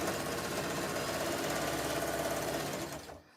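A sewing machine stitches Connecting Threads jelly roll fabric strips for a rug, a fast, even mechanical chatter running steadily at close range before it slows and stops near the end, with no one talking.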